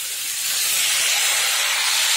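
Chopped pumpkin hitting a hot pan with small fish, giving a loud, steady, bright sizzle that swells and holds without pause.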